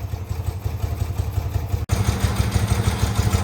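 An old motorcycle, sitting unused for over twenty years, idles on its own after carburetor idle-screw adjustment, a steady close, pulsing low rumble with a faint mechanical clatter and a brief dropout midway.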